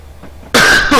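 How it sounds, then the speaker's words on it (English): After a quiet moment, a person gives a sharp, close cough, then a second quick cough right after. "I've just got an itty-bitty cough."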